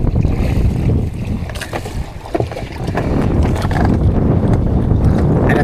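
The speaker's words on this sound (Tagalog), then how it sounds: "Bigla na lang laki yung alon." Boat pitching through big Pacific Ocean waves on a windy day, with constant loud rushing wind noise on the microphone, water slapping and surging against the hull, and irregular crashes as swells hit, with no talk.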